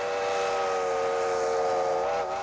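A Sugar Creek Railroad tourist train in Amish country sounds a steady, tonal whistle that holds for a couple of seconds at moderate distance and then fades slightly.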